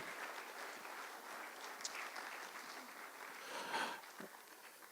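A faint, scattered round of audience applause for the chief host at Innovention 2015, quiet and distant throughout, with a slight swell of clapping near the end before it dies out.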